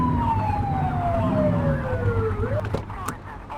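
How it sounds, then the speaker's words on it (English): A police car siren is blipped in the police video game The Precinct. Short wailing sweeps fall and rise, then break off, over a running engine. Brief sharp clicks follow. "Get on their tail and blip the siren."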